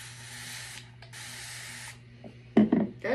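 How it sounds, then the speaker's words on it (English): Two short hissing sprays from a mist bottle, close up, followed by a brief rustle. "I'm gonna spray my face again."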